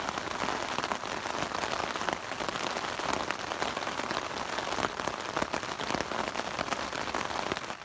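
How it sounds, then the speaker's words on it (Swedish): Persistent mountain rain drums on a tent during a fell trip, a dense steady patter heard from inside, close and continuous with no voices. "annars har det regnat ihållande sedan klockan 3 igår kväll."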